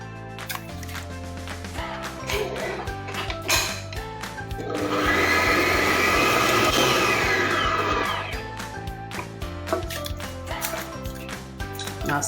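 An electric mixer beats lamington cake batter as an egg is worked in, a steady whirring drone rising and holding for several seconds amid clinks and intermittent kitchen noise before and after.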